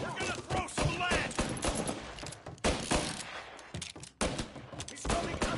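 Rapid bursts of gunfire in Mafia: Definitive Edition, loud clustered shots and automatic volleys cracking in quick succession with brief gaps, with frantic voices calling out between them.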